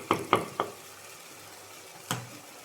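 Beef roast masala being stirred in a pan: three quick scraping knocks close together at the start, a quiet stretch with a low simmer underneath, then one more sharp scrape near the end.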